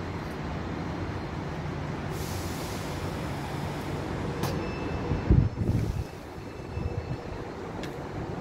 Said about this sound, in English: It's ages when another train passes the street.